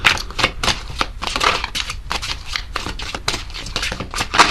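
Tarot cards shuffled by hand in a quick, irregular run of crisp riffling bursts, close and clear with no talking.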